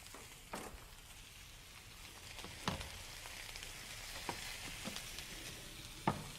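A soft, steady sizzle of butter and finely diced onion sautéing in a skillet, with faint scattered clicks of stirring over the low, even crackle.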